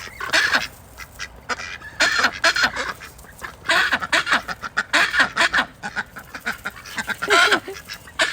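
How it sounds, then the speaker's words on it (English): A large Jumbo Pekin duck quacks loudly and close up in repeated, uneven bursts of harsh honking calls, held in someone's arms on a farm. "He does not like being held like the other ducks sideways. He's gigantic, look. He's huge. He's my Jumbo Pekin, my Howard."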